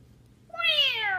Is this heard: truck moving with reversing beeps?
no